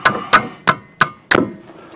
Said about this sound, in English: Take out the hammer.